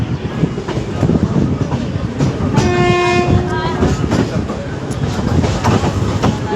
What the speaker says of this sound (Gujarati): આપણે આ ટ્રેન નીકળી ગઈ છે